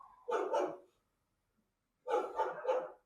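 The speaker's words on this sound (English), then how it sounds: "Can you hear the dogs in the background?" Dogs barking in the background behind a video call, two separate bursts of a few quick barks each with a silent gap between, moderately loud with no talk over them.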